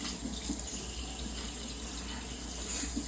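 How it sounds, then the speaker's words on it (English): Hands being washed under a running kitchen tap while preparing Cornish hens, a steady soft stream of water splashing into a sink, faint and continuous throughout. "wash my hands off"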